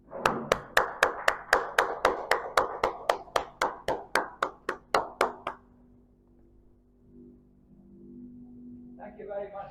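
A single person's hands clap in an even, rhythmic series of about twenty sharp claps at a Toastmasters club meeting, close and alone, stopping abruptly before a quiet hum and a voice beginning to speak.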